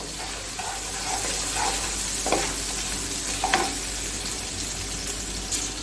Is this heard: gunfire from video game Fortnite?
no